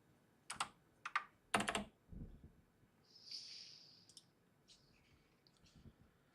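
Quiet typing on a computer keyboard, a few sharp clustered keystrokes followed by softer scattered clicks, close and alone with no talk.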